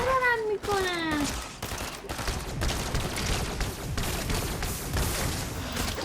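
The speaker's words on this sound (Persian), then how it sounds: "Are you just immune to my pump shots?" Pump shotgun blasts ring out in a video game, a rapid run of loud sharp reports over gameplay noise, with a rising tonal game sound at the start and voices talking.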